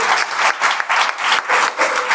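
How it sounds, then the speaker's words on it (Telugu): Audience at a Telugu gospel meeting breaking into loud, sustained applause, dense clapping from many hands with rhythmic surges, close and filling the hall with no talk over it. "చప్పట్లు కొట్టండి సార్ గట్టిగా"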